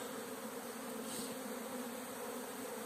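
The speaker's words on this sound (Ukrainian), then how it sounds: "Джилки дуже гарно літають." Honeybees flying between rows of hives in an apiary on a spring day, a steady continuous buzzing drone at close range with no talk.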